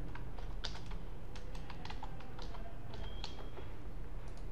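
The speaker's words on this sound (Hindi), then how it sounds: "यहाँ पर टाइप करते हैं इनएक्टिव" Rapid, irregular keystrokes on a computer keyboard while entering text into an Excel sheet, close and steady with a faint background hum throughout.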